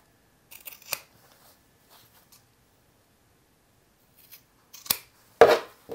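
Sharp scissor snips trimming the fabric seam allowance close to the stitching of a sewn tote bag, a quick cluster early on, then a few isolated cuts, close and crisp in a quiet room.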